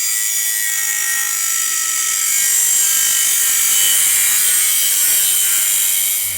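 Trimming a part on a custom Volkswagen build, a loud, close, continuous abrasive hiss like a power tool cutting or sanding, swelling slightly in the middle and tapering off near the end.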